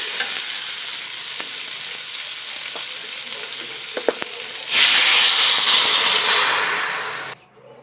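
Turnip and potato curry in a hot oiled pan: faint sizzling and a few light clinks, then water poured in brings a sudden loud hissing surge that gradually eases before cutting off.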